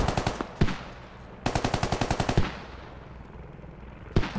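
Machine gun fire in the military shooter game Squad: loud, close bursts of rapid rattling shots. A short burst comes first, then a longer sustained string of about a dozen rounds, and another burst starts at the end.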